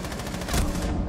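A short burst of in-game gunfire as a player shoots out a security camera during a ranked match, several rapid loud shots blending into a dense crackle.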